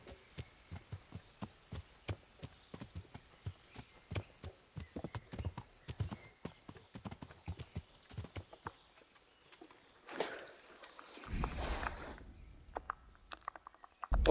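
Horse hooves clip-clop steadily and faintly in the Kingdom Come Deliverance video game, a brisk even rhythm that then gives way to a brief rustling and a low rumble.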